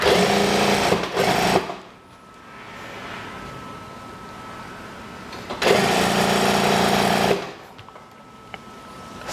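Sewing machine stitching a side seam on a kimono-style daster dress, two loud whirring bursts of rapid stitching separated by a quieter pause, close and alone.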